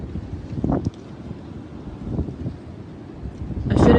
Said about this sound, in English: Sorry about the loud wind.